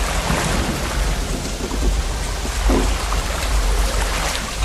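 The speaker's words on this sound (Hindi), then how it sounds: "सिर्फ बिजली कड़कने की आवाजें आ रही हैं।" Heavy rain pours steadily during a thunderstorm in a village, with low rumbling thunder rolling underneath the dense, constant hiss of the downpour, loud and close throughout without any voices.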